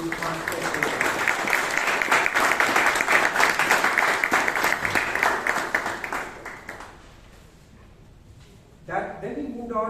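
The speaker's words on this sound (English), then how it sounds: "A big round of applause to our secretary, Toastmaster." Club members at a Toastmasters meeting applaud their secretary with sustained group clapping that fades after several seconds. Brief talk follows the clapping.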